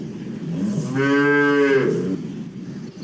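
A single cow moos loudly and close for about a second, a low drawn-out bellow over a faint background hiss.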